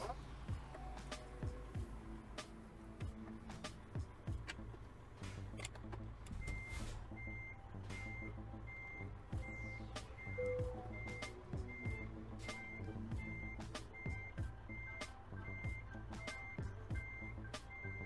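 A truck in Euro Truck Simulator 2 sounds steady, evenly spaced reversing beeps over its low engine rumble while it maneuvers to park, with someone talking intermittently over it.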